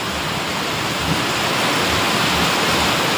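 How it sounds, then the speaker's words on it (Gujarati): Heavy rain drums on tin roof sheets in a village, a loud, unbroken broadband roar that holds steady throughout with no voices. "પતરામાં જુઓ એટલો વરસાદ પડવા મળ્યો"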